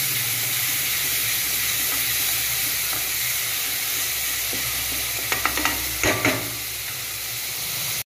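Ginger and garlic sautéing in a pan while being stirred for chicken biryani, an even hissing sizzle throughout with a few sharp scraping and clinking spatula strokes near the end, close up.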